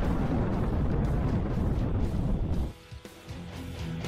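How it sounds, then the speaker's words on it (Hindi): A massive explosion in Russia-Ukraine war footage roars as a loud, dense, rumbling blast that fills the air for over two seconds, then drops abruptly to a quieter, crackling aftermath. "धमाके से धरती हिल गई, आसमान जल उठा।"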